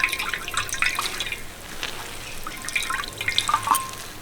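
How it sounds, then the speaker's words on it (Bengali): Water squeezed from grated mango drips and trickles in scattered, irregular drops close by, fairly faint and without talking. "এইভাবে ভালো করে ছেঁকে জলটাকে বের করে দিতে হবে"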